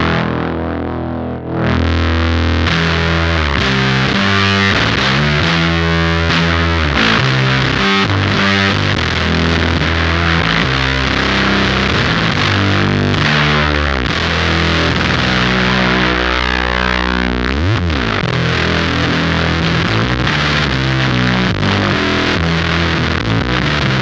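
Electric guitar driven through a Beetronics Octahive V2 vintage-style fuzz pedal, thick saturated distortion with dense sustained chords and riffs, loud and continuous throughout with a brief quiet start.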